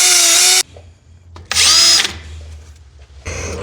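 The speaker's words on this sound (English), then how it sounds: "And get my tiny little wire brush I got." A tiny wire brush on a power tool cleans out a spot weld on the inner rocker panel of a first-generation F-body. It comes as three short, loud, high whirring bursts separated by quiet gaps.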